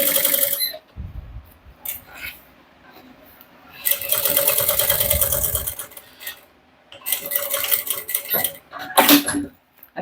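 A sewing machine runs in bursts while stitching closed the edge of a bag, its rapid rhythmic clatter starting and stopping several times with quiet pauses and small handling noises between runs.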